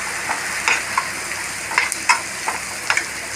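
Eggs frying in coconut oil for a pepper egg roast, a steady close hiss of sizzling with several sharp crackles and spatula scrapes at irregular intervals, no voices.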